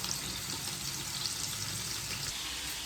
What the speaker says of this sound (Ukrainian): І поки в мене тут все смажиться, все досмажується.